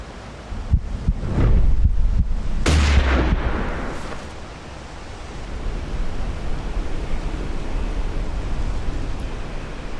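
Rifle shots ring out while hunting moose in the video game Hunting Simulator, with a few sharp booming reports close together early on, then a long rumbling tail fading into steady wind-like outdoor ambience.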